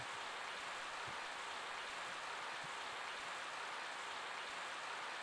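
Steady rain falls in the video game Growlanser 3: The Dual Darkness, a constant soft hiss with faint scattered drops, even and unbroken throughout.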